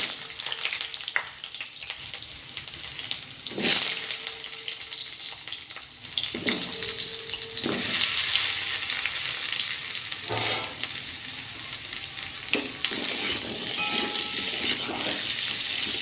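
Potatoes frying in hot oil in a kadai, a continuous bright sizzle that swells as pieces drop in, punctuated by metallic clinks and scrapes of a utensil against the pan, no talking.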